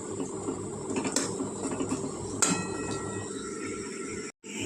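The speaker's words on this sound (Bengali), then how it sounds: "এই বড়াগুলো এই পিঠটা আরেকবার আরেকটু ভেজে নিই" Fish roe fritters frying in a pan, a steady sizzle of oil under metallic clinks and scrapes of a spatula against the pan, with a brief pause near the end.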